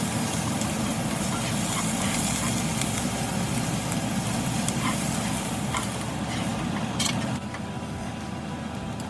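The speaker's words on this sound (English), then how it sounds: "our onions are done and we are going to add crushed ginger 1 spoon and crushed garlic as well" Crushed ginger and garlic sizzle steadily with cooked onions in a hot pan for a North Indian methi matar malai, a constant close frying hiss with faint stirring scrapes near the end.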